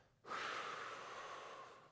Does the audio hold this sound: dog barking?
no